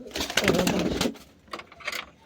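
Pigeons coo close by, a few low, throaty burbling calls in quick succession.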